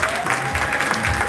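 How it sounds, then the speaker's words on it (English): Short burst of audience applause at a gathering in Alabama, dense steady clapping from a room full of people with some tonal background hum underneath. "Can we give a applause to her?"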